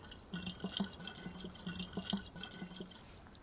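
Water bottle being filled in the video game DayZ, a quiet run of rhythmic drips and gurgles at a steady pace with no voices over it.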